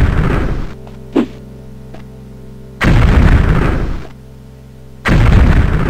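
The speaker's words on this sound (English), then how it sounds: "He's shooting at me." Enemy gunfire in the Daggerfall game, heavy booming bursts that come in loud waves separated by quieter stretches, with one sharp short pop in between.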